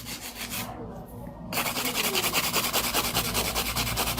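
Hand filing of thin C-curve acrylic nail tips makes a rhythmic rasping scrape in quick, even strokes, close and distinct after a brief pause near the start.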